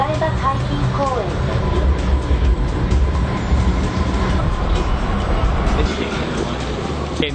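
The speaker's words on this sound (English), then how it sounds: "I am on the monorail right now, heading to Odaiba City." Onboard a monorail headed to Odaiba in Tokyo: a continuous low rumble and rail clatter fills the cabin, with voices murmuring over it throughout.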